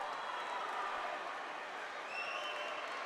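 Spectators at a college swim meet, Lynchburg Hornets against Mary Washington, cheer and clap steadily as a close race nears the wall; the roar is a dense, moderately distant wash that stays fairly even for a few seconds.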